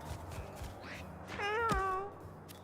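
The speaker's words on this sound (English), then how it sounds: "Oh, there's a lot of kittens." Several kittens meow in the video game Starground, rising cries that overlap around the middle of the short burst against a low game background.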